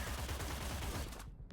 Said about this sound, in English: So we'll shoot all of these guys.